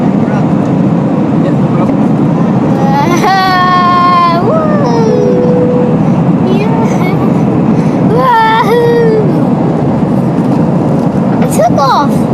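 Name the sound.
airplane taking off, cabin noise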